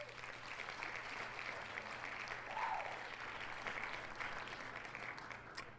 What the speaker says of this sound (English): I've got a little applause.